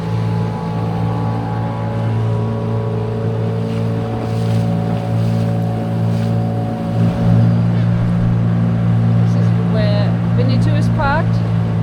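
A boat riding along the water near Saavedra on Chile's Pacific coast, its engine a steady close, loud drone with continuous wash, while people talk over it.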